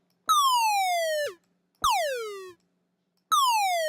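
A U-He Tyrell N6 software synthesizer plays a 70s disco-style tone with a pitch envelope: three separate notes, each sweeping sharply downward in pitch, clean and up close, with silent gaps between them and no voices.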